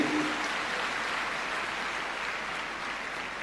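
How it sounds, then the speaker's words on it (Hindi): A school achievement ceremony audience claps in a dense, even wash of applause that holds steady throughout, with no voices over it. "जोरदार तालियां बजती रहे इस उपलब्धि के लिए।"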